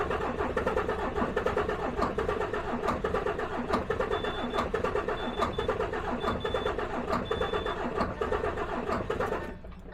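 A DAF XF truck engine cranks without catching, a close, steady rhythmic churning of the starter that carries on for several seconds before dropping away at the end.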